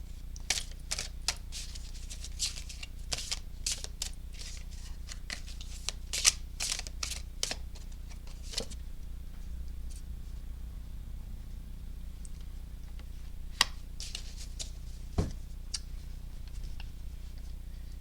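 Tarot cards are shuffled and drawn by hand, producing quick, light flicking and riffling clicks in irregular bursts, close and fairly quiet over a low background hum.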